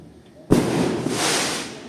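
Fireworks burst with a sudden sharp bang in an outdoor street in Pai, Thailand, followed by a loud crackling, hissing fizz that carries on steadily, a short quiet murmur just before.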